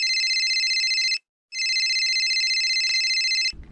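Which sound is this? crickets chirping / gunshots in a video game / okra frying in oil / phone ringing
phone ringing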